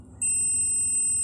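A multimeter continuity tester gives a sustained, clear electronic beep as its probes touch the same side of a resistor, starting abruptly and holding steady to the end.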